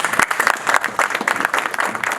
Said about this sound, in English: Can we give Vanessa a big, big round of applause?